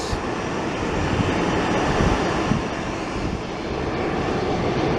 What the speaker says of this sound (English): The red, white, and blue E-145 is coming back out as our Southwest makes its departure.